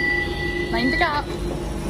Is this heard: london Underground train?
yes